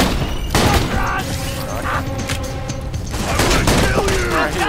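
Heavy sniper rifle fire in Borderlands 2 booms out amid a dense, continuous barrage of game gunfire and explosions, with loud thuds punctuating the steady roar of combat.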